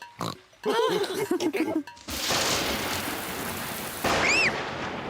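Brief cartoon pig voices and squeals give way to a loud, steady wash of rain and rumbling thunder from a thunderstorm that fills the rest of the clip.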